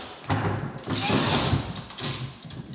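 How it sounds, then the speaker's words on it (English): Handheld power drill spinning a bucket-built polly wire roller, its motor whirring loudly and steadily in close bursts with brief dips as the trigger eases, and no talking. "You could just take a drill and really roll that stuff up fast."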